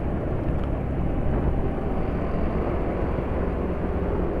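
A 2019 Yamaha NMAX scooter engine gives a steady, droning rumble with a low, continuous roar and no clear pauses, sounding close and fairly loud.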